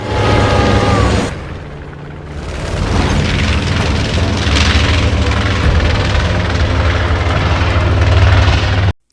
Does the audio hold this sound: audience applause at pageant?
no